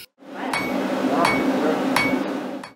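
A blacksmith's hammer strikes an anvil four times at an even pace, each blow a sharp ringing clang, with a steady low rumble of forge or workshop noise running underneath.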